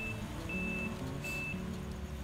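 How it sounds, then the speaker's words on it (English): Three evenly spaced electronic reversing beeps from a Farming Simulator 15 vehicle sound over a steady low engine rumble, each a clear high tone. "Love it that it beeps when it backs up."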